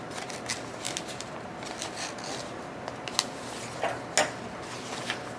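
Scissors snipping teeth shapes out of paper or card at close range, with a few sharp isolated cuts and light handling rustles, no talking.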